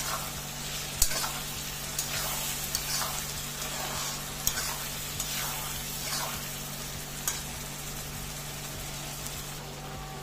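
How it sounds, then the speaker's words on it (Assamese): Ground spice paste sizzles steadily in a hot pan while a spoon scrapes and stirs through it in repeated strokes, with an occasional clink. "বটা মছলাখিনিও দি দিলোঁ দি গোটেইখিনি আকৌ অলপ লৰাই দিছোঁ"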